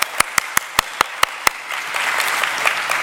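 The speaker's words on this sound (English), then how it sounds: "Let's give them a roaring applause." At a conference, a few sharp, evenly spaced individual claps ring out up close, then a broader crowd's applause swells into a continuous wash.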